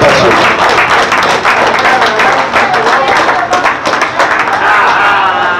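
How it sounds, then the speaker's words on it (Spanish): Loud, close applause from a crowd at a handover of boxing equipment, brisk clapping from many people sustained for several seconds with some voices mixed in. "un aplauso para esta entrega de material"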